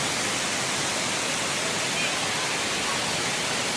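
Kaparkan Falls waterfall in Abra roars as a dense, steady rush of water, loud and unbroken throughout, with no voices heard.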